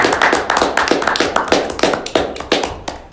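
A panel audience gives a round of applause, a dense burst of close hand claps at a quick, fairly even rhythm, loud and alone without talk.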